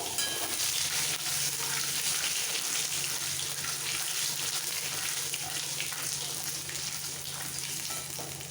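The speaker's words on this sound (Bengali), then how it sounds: "গোটা সাদা জিরে আর এক পিঞ্চ মতো রসুন বাটা এই তেলের মধ্যে সাথে সাথে মিক্স করে ফেলবো" Whole cumin, a bay leaf and garlic paste frying in hot oil give a loud, dense, unbroken hiss that sits close and steady throughout.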